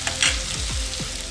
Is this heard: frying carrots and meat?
yes